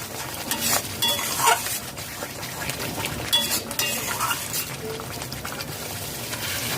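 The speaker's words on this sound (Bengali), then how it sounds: "লো টু মিডিয়াম ফ্লেমে মশলা নাড়াচাড়া করে কষিয়ে নেব" Spice masala sautéing over low to medium flame in a pan, with a soft continuous sizzle broken by repeated scraping stirs of a spoon, fairly close and moderately quiet.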